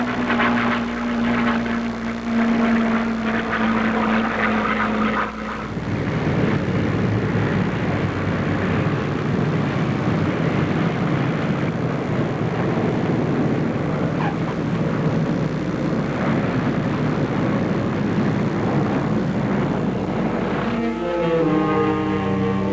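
Beechcraft airplane engine droning steadily as the plane approaches Tampa to land, a loud, continuous rumbling roar that shifts in tone partway through and runs throughout without speech.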